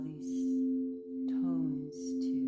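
Sustained meditation tones from a sound journey hum steadily, a pure drone that gently swells and dips with soft chiming overtones, while a calm voice speaks briefly over them.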